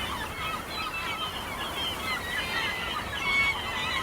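Gulls call over a nesting site on an island in the Caspian Sea, a dense chorus of overlapping honking cries, loud and continuous throughout.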